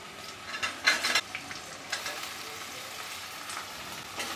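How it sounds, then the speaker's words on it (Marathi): Chopped tomatoes sautéing with softened onions in a pan, a soft, low sizzle with a few sharp bursts of stirring scrapes near the start, then quieter frying. "आता ही सुद्धा आपल्याला कांद्यामध्ये परतून घ्यायची आहे."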